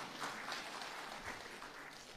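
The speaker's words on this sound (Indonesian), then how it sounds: "Tepuk tangan buat omah kita." An audience at a church sermon clapping in applause, a steady dense patter of many hands that holds at even strength for a couple of seconds.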